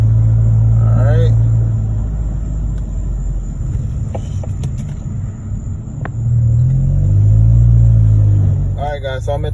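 An Audi car drives along a road with its traction control switched off, giving a loud, steady low engine and road rumble that swells toward the end, with a few faint clicks and no talk.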